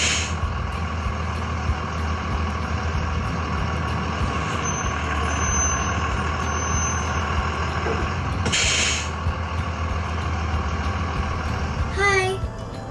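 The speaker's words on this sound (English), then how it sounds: "Guys, the bus is here." A large school bus pulls up and rumbles nearby with a steady low engine drone, a hiss of air brakes near the end and a few high beeps, under children's and adults' voices.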